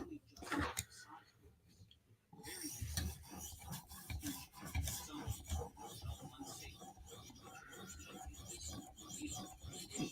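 A blade of a Spyderco Slysz Bowie knife rasps against a sharpening stone in repeated close strokes, after a brief quiet pause at the start, with faint murmured talk mixed in.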